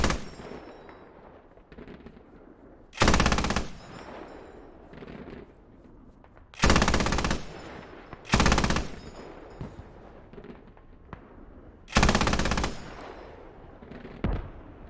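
Heavy machine gun mounted on an anti-aircraft truck fires in a video game battle, four loud sustained bursts standing out against a continuous backdrop of distant gunfire and combat noise.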